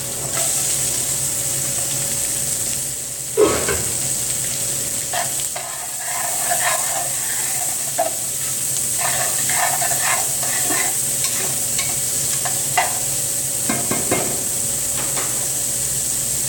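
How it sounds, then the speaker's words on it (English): Sausage browning with onions in a large pot on medium-high heat, a continuous close sizzle and hiss with occasional stirring clatters, with no talk. "We're going to let our sausage brown with the onions."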